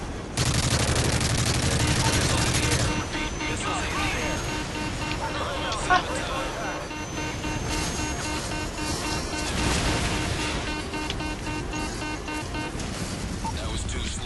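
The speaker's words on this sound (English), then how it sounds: "Shooting at me." Gunfire rattles in a survival video game, dense bursts of shots over a busy, noisy background, with voices talking throughout.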